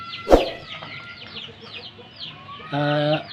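A chicken clucks softly nearby after a sharp knock, then lets out a drawn-out, nasal squawk at the end.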